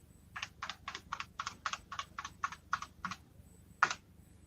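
Keys clack on an extended computer keyboard in a quick close run of about a dozen taps, a short pause, then one final firm keystroke.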